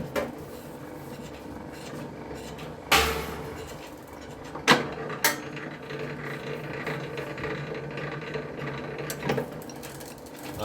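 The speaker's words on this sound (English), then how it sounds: "the wife is doing a bit of the cable stripping while I'm eating" A cable stripping machine works through scrap cable with a steady low mechanical whir, broken by a few sharp clunks and knocks nearby, with no talking.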